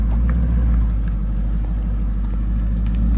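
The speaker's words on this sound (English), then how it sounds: "So we've got the Jag K8 convertible rolling out as well" A Jaguar XK8 convertible with a 5-litre V8 of nearly 500 horsepower rolls out at a classic car and bike breakfast at a pub, its deep, steady low rumble loud and close without any voices.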